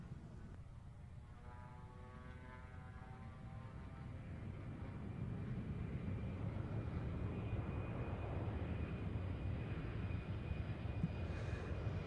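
A short-takeoff aircraft with leading edge slats and large powered-lift flaps makes a slow pass at an air show, its engine roar broad and steady, building gradually and heard from a distance.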